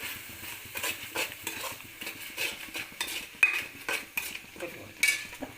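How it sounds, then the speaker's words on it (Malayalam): A spoon stirs lololikka fruit pickle with salt and spices in a metal vessel, making rhythmic scraping and clinking strokes close by, repeated steadily with a light wet squish. "ഇനി നമുക്കിത് ഇളക്കാം"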